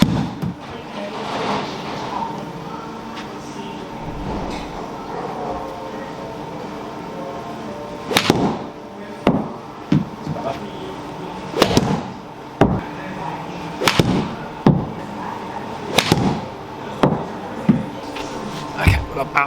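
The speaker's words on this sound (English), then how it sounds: "So I'm going to hit 10 shots with each club." Golf shots with a 59 degree wedge on a practice range, a string of sharp, loud clubface strikes arriving every second or so in the latter half, over steady background hum and some talk.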